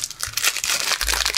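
A trading card pack wrapper torn open, a brief crinkly, crackling rip of foil-like plastic lasting about a second, close up and alone.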